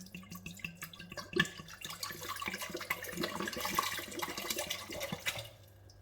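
Water is poured from a measured one-litre amount into a jar while making fermented creaming soda, a steady splashing, trickling stream lasting several seconds that tapers off at the end, close and moderately loud with no talking.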